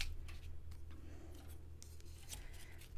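Scissors cut along traced rectangle lines on paper, a run of quiet, repeated snipping and slicing strokes close up over a low steady hum.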